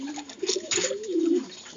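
Pigeons cooing close by in a short burst of low, wavering coos with a faint flutter of wings, the birds out on a flying round over their loft.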